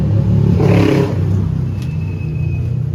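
A modified motorcycle converted to a single seater, weak on power, revs its engine up close. The rumbling roar swells loudly for about a second, then settles back to a steady idle.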